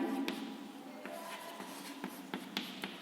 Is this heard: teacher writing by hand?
yes